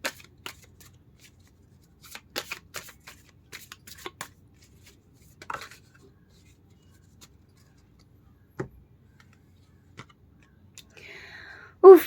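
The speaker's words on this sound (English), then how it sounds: "Let me shuffle again." Close, dry riffling and tapping of cards in several short bursts with quiet pauses between, ending with a faint voice.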